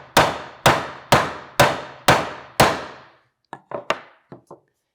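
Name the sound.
hammer tapping wood on a DIY cajon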